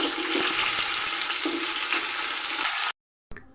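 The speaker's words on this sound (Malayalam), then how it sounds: "അപ്പോൾ നമ്മൾ മസാല റെഡിയാക്കി എടുക്കാനുള്ള സവോളയും തക്കാളി നമ്മൾ ചേർത്ത് കൊടുത്തിട്ടുണ്ട്. നല്ലപോലെ ഒന്ന് വഴറ്റിയെടുക്കാം." Onions and tomatoes fry in hot oil for a chicken biryani masala, giving a steady close sizzle with faint stirring scrapes before an abrupt cut to silence.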